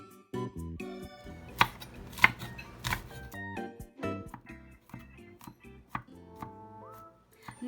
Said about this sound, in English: First, let's mince the garlic.